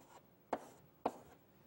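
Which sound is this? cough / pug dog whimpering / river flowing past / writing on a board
writing on a board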